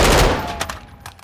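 A Daniel Defense DDM4 V7 rifle fires full auto in Call of Duty Modern Warfare II, a loud, close burst that trails off into a few separate shots and decaying echo.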